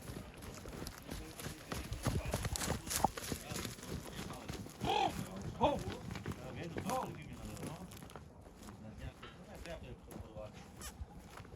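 Hooves of heavy draft horses clop steadily on hard ground as they walk along, with voices talking over the rhythmic hoofbeats.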